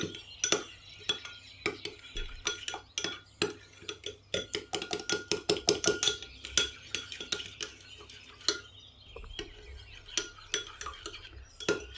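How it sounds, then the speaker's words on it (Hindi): A utensil scrapes and clinks against a bowl while a spicy hot sauce for a zinger chicken burger is mixed, giving a steady run of quick metallic taps and scrapes, close and fairly loud, with no voices. "तो इसको हमने अच्छी तरह से मिक्स कर लेना है इस सॉस को"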